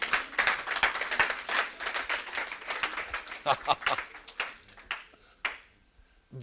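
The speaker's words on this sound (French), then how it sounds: "Applaudissez le Seigneur." Church congregation clapping in praise during a sermon, uneven sharp claps mixed with voices and calls, fairly quiet and thinning out toward the end.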